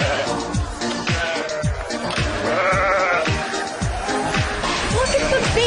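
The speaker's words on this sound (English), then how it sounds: "Look at the baby goat." Baby goats bleat repeatedly at a farm where visitors meet and feed them, a dense chorus of overlapping calls close by with constant background noise.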